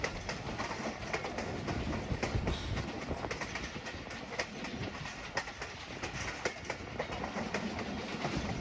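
A Sialkot Express train rolls steadily along the track at moderate speed, with a continuous rumbling roar and faint rhythmic clatter from the wheels, loud and close, with no talking.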